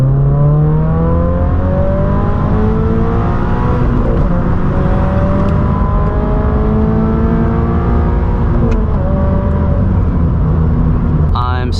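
A 2022 Subaru BRZ with a MAPerformance exhaust driving by: a loud, close engine note whose pitch rises and falls through gear changes, with a sharp burst at the end.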